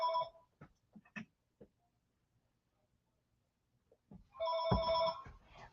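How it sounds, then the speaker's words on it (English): A telephone rings indoors in two short bursts, one at the start and another near the end, with faint knocks and quiet room noise in between. "of course the phone's gonna ring"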